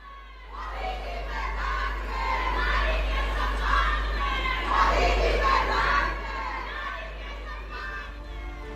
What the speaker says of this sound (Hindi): ये तालियों की गड़गड़ाहट और ये नारेबाजी उस नायक के लिए है